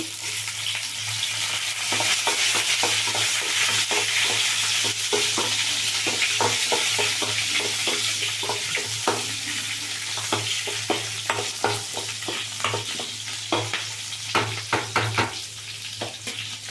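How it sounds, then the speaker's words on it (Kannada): Onions and green chillies fry in a pan for a dhaba-style moong dal, giving a steady loud sizzle with repeated scraping stirring strokes throughout and no talking. "ಈರುಳ್ಳಿ ಇದೆಲ್ಲ ಚೆಂದ ಫ್ರೈ ಆಗಲಿ"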